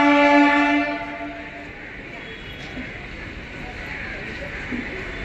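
Indian Railways local MEMU train at Etawah Junction: a long loud horn blast opens, then fades into a rumbling steady drone of a train moving through the station, with a voice speaking over it.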